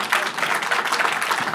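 Audience clapping steadily at a MedStartUp awards ceremony, a dense, even patter of many hands sustained for under two seconds.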